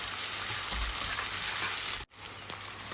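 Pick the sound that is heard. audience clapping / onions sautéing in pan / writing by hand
onions sautéing in pan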